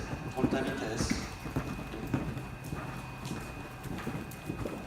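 A horse cantering or galloping in a French riding clinic, with steady rhythmic hoofbeats over a low rumble. An instructor's voice talks over the hooves throughout.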